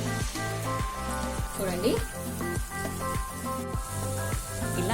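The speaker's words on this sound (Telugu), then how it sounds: "క్రిస్పీగా అయ్యే వరకు ఫ్రై చేసుకుంటే జిలేబీలు" Jalebi batter spirals fry in hot oil at home, a steady crackling sizzle that runs through someone speaking, with rhythmic music playing loudly underneath.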